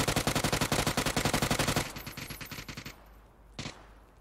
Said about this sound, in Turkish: Mermi bitti. Birini bayağı vurdum Z'de.